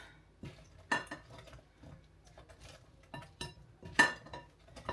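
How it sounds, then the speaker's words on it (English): Chicken wings flipped and tossed in really hot sauce in a bowl, giving scattered clinks and scraping knocks of utensil against the dish, with two sharper clanks standing out amid quieter stirring. "So I'm going to go ahead and just toss this in this really hot sauce. Trying to flip them over."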